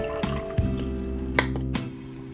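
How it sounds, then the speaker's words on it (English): Water is poured into a cup, giving a short trickle with a few clinks and drips, close and fairly clear, with no talk. "pour some water in my cup"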